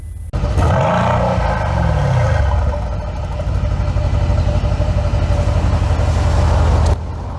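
A Mercedes-AMG C63 S 4-liter twin-turbo V8 engine roars loudly up close, revving up and holding a deep, rumbling snarl before cutting off abruptly.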